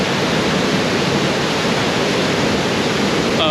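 Full waterfall fed by ice melt on a mountain hike, a loud, constant roar of rushing and falling water close by with no other sounds.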